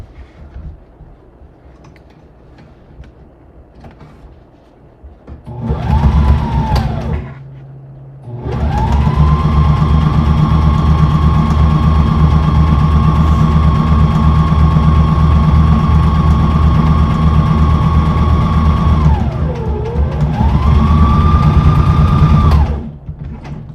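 Sewing machine stitching a pocket onto a wrap skirt panel, starting with a short burst, then a long steady whirring run that dips briefly in pitch and finishes with a stop.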